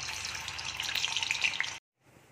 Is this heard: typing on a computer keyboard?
no